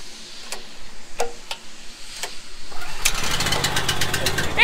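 A freshly rebuilt engine runs steadily and close by after a few sharp ticks, its broadband rumble building and holding through the second half.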